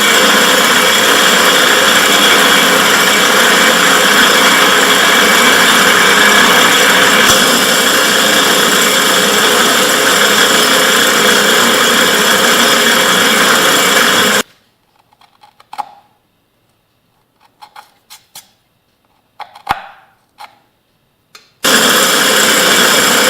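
A power drill whines loudly and steadily for about fourteen seconds, then stops; brief clicks and handling noises follow before the drilling starts again, during work on a Yamaha YL1 motorcycle.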